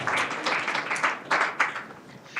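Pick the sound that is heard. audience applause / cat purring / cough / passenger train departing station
audience applause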